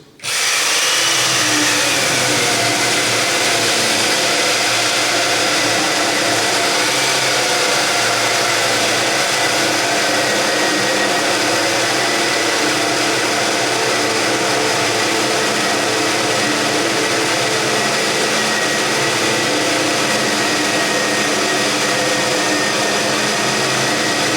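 A power tool plunging to cut a mortise in wood, starting abruptly and running as a loud, continuous high-pitched motor whine and grinding roar without pause for the whole stretch.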